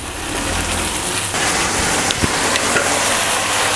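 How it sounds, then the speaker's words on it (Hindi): Chicken fries in a pan as a loud, dense, continuous sizzle, close up and unbroken, with no talking. "ये देखें चिकन हमारा फ्राई हो रहा है"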